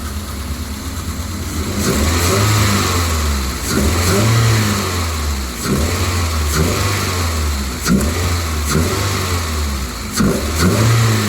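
A Toyota RAV4 engine, freshly repaired after an ignition coil fault, revs up again and again in a regular rhythm, each rise and fall loud and close, with no talking.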